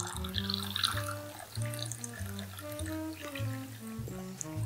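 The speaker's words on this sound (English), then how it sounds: "My objective here is to get a little bit of air in that tea as it's pouring." Tea pours from a teapot into a cup with a steady, close liquid splash that runs the whole time, over a constant tonal musical backdrop.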